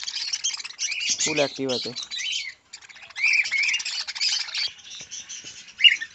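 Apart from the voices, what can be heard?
lovebirds squawking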